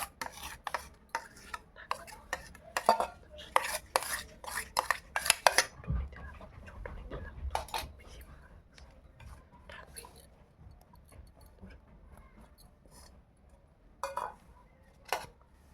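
Spoon scraping and clinking against a metal steaming dish while rice-flour batter for vapa pitha is spread, a quick run of close clicks and taps that thins into faint scraping and quiet gaps, with a couple of late knocks.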